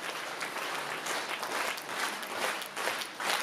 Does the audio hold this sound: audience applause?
yes